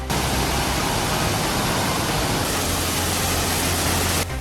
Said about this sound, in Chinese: 底下的溪流更是水势汹涌，滚滚奔流，发出如雷贯耳的轰鸣声